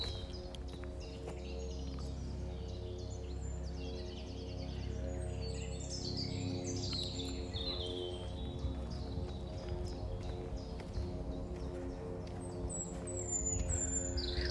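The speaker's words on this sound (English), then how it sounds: "Can you guys hear like the noises, like the birds and that?" Birds chirp and sing outdoors in bluebell woodland, with several scattered calls and trills over a steady low background rumble. The calls are fairly faint and there is no talking.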